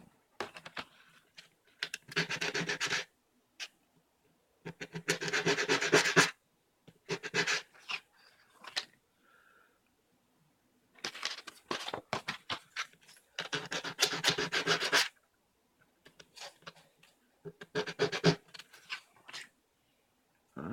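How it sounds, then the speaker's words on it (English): Bursts of rough, rhythmic scratching, like sandpaper rubbed back and forth by hand, repeating in strokes separated by short pauses. "so those are sanding off"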